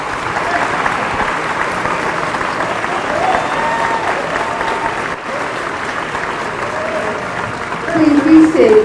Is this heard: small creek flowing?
no